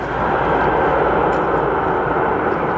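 A United airliner in Continental livery touches down at O'Hare with spoilers deployed, a loud, close, steady roar of engine and rushing air filling the moment without pause.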